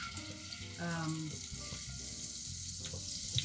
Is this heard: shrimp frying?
yes